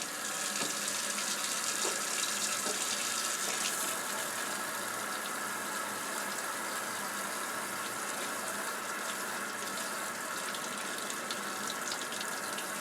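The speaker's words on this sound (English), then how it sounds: "There's the hot water." A garage utility sink faucet runs hot water steadily, a constant hiss and splash of water that stays even for the whole stretch, with no voices.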